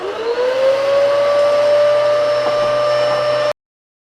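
Vacuum cleaner sucking sand out of a bearded dragon's cage, a loud steady motor whine that rises in pitch at the start, then drones evenly before cutting off abruptly.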